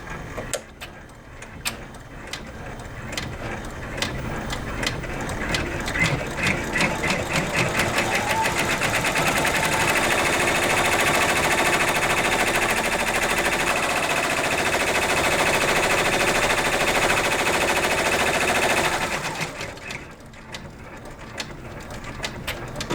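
An embroidery machine stitches a background fill, its needle running in a fast, steady mechanical chatter that starts with spaced clicks, builds into a dense continuous buzz, then stops abruptly near the end.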